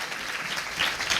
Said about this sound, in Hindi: परमेश्वर के लिए तालियां बजाएं